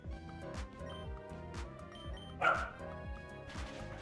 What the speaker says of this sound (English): He's barking. That's what he's doing.